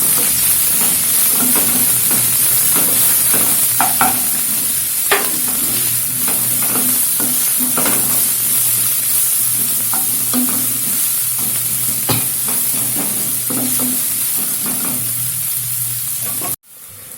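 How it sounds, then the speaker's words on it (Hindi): Chopped onion sizzles steadily in a hot pan, a constant frying hiss broken by occasional clinks and stirring scrapes, close up, before cutting off abruptly. "मैं 1 प्याज काट ली हूँ बारीक, तो उसे डाल दूंगी। अब इसे भून लेंगे।"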